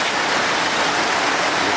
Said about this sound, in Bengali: অসাধারণ বৃষ্টি